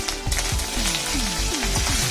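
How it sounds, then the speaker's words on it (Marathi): Steady hot-oil sizzle of spices tempering with garlic, crackling broadband noise with a few sliding pops and clinks, close and continuous with no talk. "इथं खमंग अशी फोडणी तयार करून घेतली आहे त्यामध्ये लसूण"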